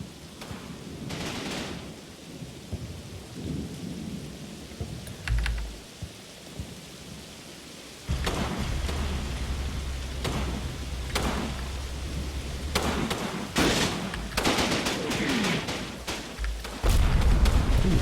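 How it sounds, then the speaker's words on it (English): An artillery barrage lands during a night battle in the Combat Mission wargame, with distant rumbling booms and a steady roaring hiss that swells louder midway, and heavier blasts rolling in near the end. "I'm waiting for the artillery barrage to fall right on top of here, and I think that's, oh, that might be the spotting rounds"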